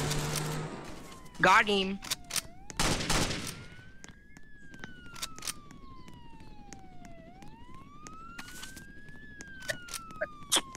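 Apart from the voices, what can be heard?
gunshots in the video game Roblox Jailbreak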